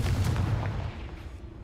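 A Confringo blasting spell exploding in Hogwarts Legacy, a heavy booming blast with a rumbling low-end tail that fades away over a second or so.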